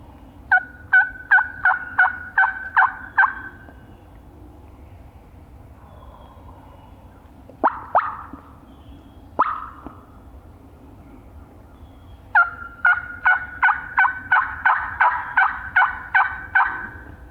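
Wild turkeys gobbling on public land: rapid rattling gobble bursts, one clear run early, a couple of short isolated gobbles in the middle, then another long run near the end, fairly close and loud in quiet open air.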